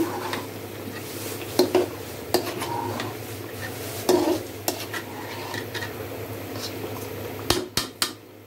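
Chicken curry with potatoes being stirred in a pot, a spoon scraping and knocking against the metal in scattered clinks over a low steady simmer, close and moderately loud with no talk.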